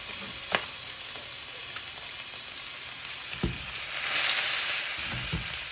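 A ribeye steak sears in an oiled pan, giving a steady close hiss of frying with a few sharp pops and a brief swell of louder sizzling near the end; no one speaks.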